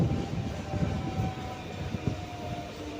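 MEMU passenger train arriving at Sultanabad station, a steady low rumble of the rolling train with a faint tonal whine running through it, moderately quiet.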